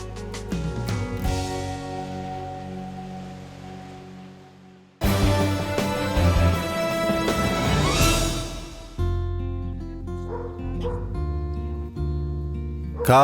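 A Portuguese water dog barks and yelps amid steady music-like tones that continue throughout, with no pause in the sound.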